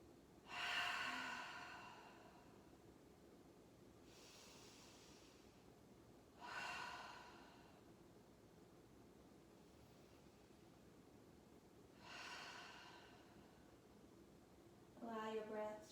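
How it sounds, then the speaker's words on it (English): Three slow, deep relaxing breaths during a yoga and pranayama session, each a soft close airy inhale-exhale swell separated by long quiet pauses, with a fourth breath beginning at the end. "Take 3 deep, relaxing breaths."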